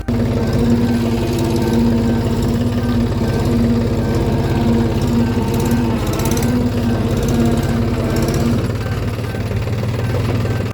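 A tractor engine chugs steadily at close range with a low, even throb and rattling vibration, running continuously without a break.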